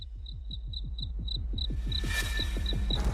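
An insect chirps in quick, evenly spaced pulses, loud and close, over a steady low rhythmic throb. A brief hiss swells near the end.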